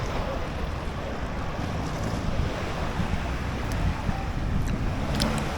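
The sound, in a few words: rough sea waves at a beach in Thailand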